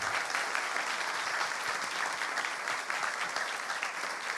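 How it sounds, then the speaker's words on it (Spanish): Sustained applause from an audience at a film screening and presentation of the movie La Bachata de Biónico, steady and dense throughout with no pauses, a full room clapping together. "Un aplauso, señores, para esta gente"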